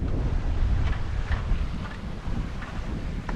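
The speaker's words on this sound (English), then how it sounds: "Got about 10-11 knots of wind." Wind roars across a sailboat running under headsail alone in about 10–11 knots off Gran Tarajal in the Canary Islands, a steady buffeting rush over the microphone with a low wash of water beneath.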